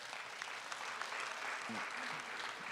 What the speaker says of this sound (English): Parents, give yourselves a round of applause.